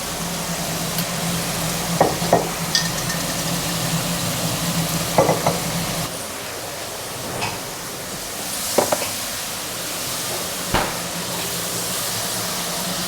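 Spiced masala paste for a fish curry fries and sizzles in hot oil, a steady close hiss broken by occasional scraping stirs and clinks of the spoon against the pan.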